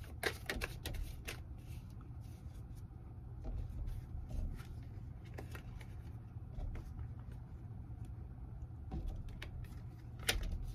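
A deck of tarot cards is shuffled, with soft riffling and scattered sharp flicks over a low, steady background hum, and nobody speaking.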